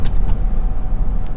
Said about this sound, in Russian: Муж еще газует так.